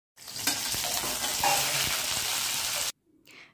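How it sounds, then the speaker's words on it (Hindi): Four eggs frying in a pan, giving a loud, steady, close sizzle with faint utensil taps that cuts off abruptly, leaving a quiet murmur. "मैं यहाँ पे चार ही अंडे फ्राई कर रही हूँ"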